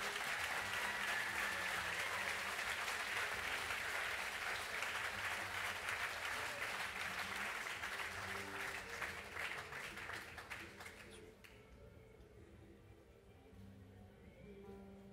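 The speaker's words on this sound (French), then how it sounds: "j'aimerais qu'on fasse un tonnerre d'applaudissements" Loud, sustained applause from an audience at an evening concert at the Fête de l'Humanité, filling the space, then tapering off toward the end as a few faint voices remain.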